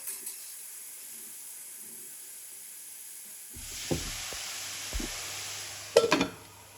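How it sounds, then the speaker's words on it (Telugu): Ridge gourd curry cooks under a lid with a faint, steady hiss that grows a little louder partway through, broken by a few soft knocks and a couple of brief metallic clinks near the end. "మూత పెట్టుకుంటే తొందరగా మగ్గుతుంది జీడికాయ"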